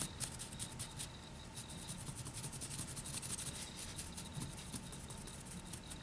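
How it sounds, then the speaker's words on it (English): A fan brush sweeps excess pigment powder off painted nails, producing a continuous soft, close brushing rasp with quick repeated strokes and no talk. "I'm going to use a fan brush and then just brush off that excess pigment"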